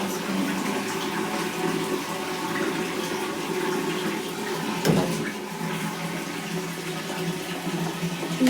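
Water pours steadily into a washing machine tub in a continuous rushing stream, close and fairly loud, with a brief splash or bump midway.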